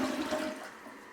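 A household toilet flushes close by, with a rushing surge of water that fades slightly toward the end, and no voices.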